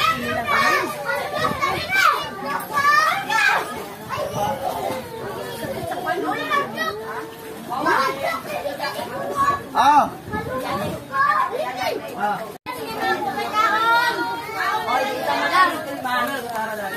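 Children play and chatter noisily at the Mahigalaon Beach Resort floating cottage in Carmen. Many young voices overlap in shouts and laughter close by, with a fairly constant, lively level throughout.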